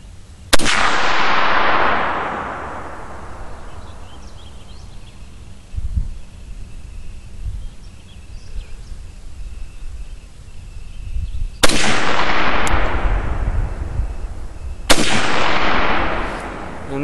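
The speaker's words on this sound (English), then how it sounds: "here's the Czech ammo in the Chinese SKS" A Chinese SKS rifle firing Czech ammunition, three loud sharp gunshots spaced several seconds apart, each with a long echoing decay across open ground, and no talk.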